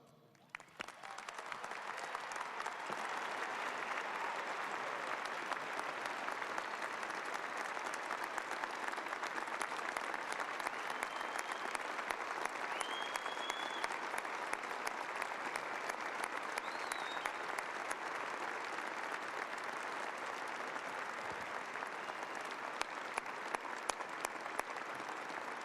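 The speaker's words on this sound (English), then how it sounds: "Let's give him another round of applause." A large audience at a university commencement ceremony claps steadily in sustained applause that swells quickly and holds at an even level for about twenty-five seconds, broad and reverberant in a big hall, with no talking over it.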